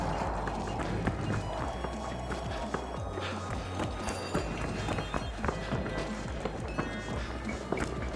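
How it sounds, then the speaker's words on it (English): Quick running footsteps patter continuously through a busy video game firefight, close and fairly loud over a dense wash of background noise, with no voices. "I think I hear footsteps from Bravo"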